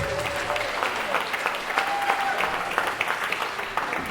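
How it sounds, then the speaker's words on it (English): A live wrestling crowd at a WrestleForce show in Wickford gives a birthday boy a round of applause: loud, continuous clapping from many people, with a few sharper claps standing out, throughout. "Can we get a round of applause for Ethan,"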